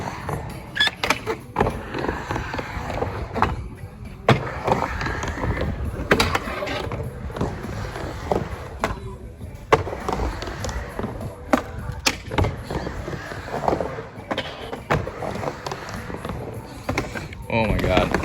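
A skateboard rolls and carves around a bowl, its tail knocking against the coping with sharp, intermittent clacks and thuds amid wheel rumble, while people talk over it throughout.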